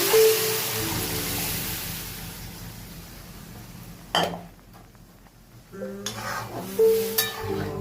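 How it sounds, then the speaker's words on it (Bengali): Mung dal tipped into a hot tempering of cumin and dried red chillies, followed by spoon scrapes and clinks against the pan, with a brief sizzle and several metallic knocks toward the end. "ডালটা দিয়ে দেবো।"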